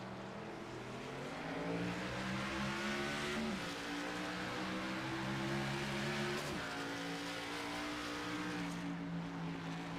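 Race car engines roar at the start of an iRacing eNASCAR race at Iowa Speedway, a dense pack of loud engines climbing in pitch through gear shifts, continuous and close, with no talk.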